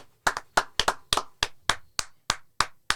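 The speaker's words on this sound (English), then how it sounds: "you gotta clap like this" One person claps their hands sharply about a dozen times in an uneven rhythm, some claps doubled quickly, each crisp and close with quiet gaps between.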